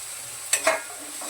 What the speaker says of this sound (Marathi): इथे मीठ घालून चांगलं परतून घेते वाटण